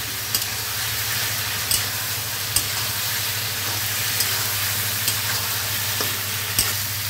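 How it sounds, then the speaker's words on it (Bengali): Ginger paste, chilli paste and Kashmiri chilli powder sauté in a pan with a little water, giving a steady soft sizzle with faint stirring taps scattered throughout. "এবার ভালো করে কষে নেব আমি।"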